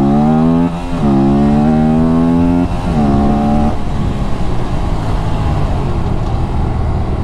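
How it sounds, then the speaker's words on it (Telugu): An Aprilia RS 457 motorcycle accelerates hard, its loud close engine note climbing through rising gear pulls with brief drops at each shift, then settling into a steady roar at speed; no talking is heard. "నేను యాక్సలేషన్ చేస్తున్నా కదా"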